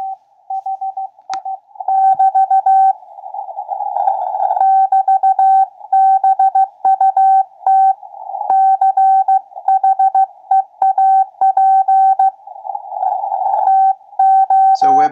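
Morse code CW received over a WebSDR radio: a clear, steady mid-pitched tone keyed on and off in rhythmic dots and dashes, with faint noise bursts between some characters and a brief click at the end.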